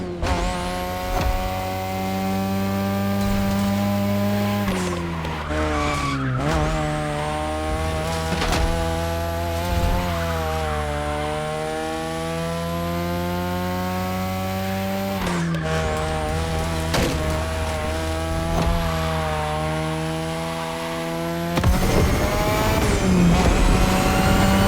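A race car in The Crew Motorfest video game, its engine revving hard and loud almost without a break, the pitch climbing and dropping through gear shifts, with tire squeal near the end.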